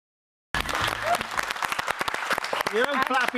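A small studio audience and podcast guests clap in a burst of scattered, close handclaps after a moment of silence, while people talk and laugh over the clapping.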